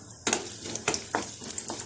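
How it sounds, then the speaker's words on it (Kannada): Cashews, almonds and other dry fruits fry in a spoonful of ghee for Satyanarayana prasada, a soft close sizzle punctuated by several sharp scraping clinks of a spoon stirring against the pan. "ಈಗ ಡ್ರೈ ಫ್ರೂಟ್ಸ್ನ ಸ್ವಲ್ಪ ಫ್ರೈ ಮಾಡಿ ತೆಗೆದಿಟ್ಕೊಳ್ಳೋಣ"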